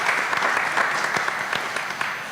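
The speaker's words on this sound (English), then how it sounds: "Let's give Dad a round of applause." Applause from an audience at a school board meeting honoring a student's father, dense steady clapping throughout at moderate volume, no talking.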